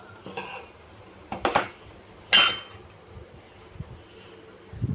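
Egg fried rice being shifted from the pan onto a plate, a few sharp metallic clanks and scrapes of a spoon against cookware, separated by quiet pauses.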